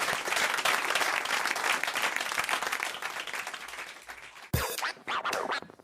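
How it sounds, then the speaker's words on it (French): A studio audience on a radio talk show applauds in a loud, dense burst that fades, followed by a sharp thump and a few scattered claps and rustles. "Allez, on vous applaudit, on vous embrasse Anne-Marie et Marc."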